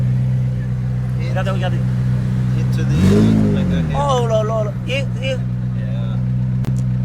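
A McLaren sports car revs once at close range, a deep engine note that swells sharply and falls back over an idling hum, with people talking excitedly before and after.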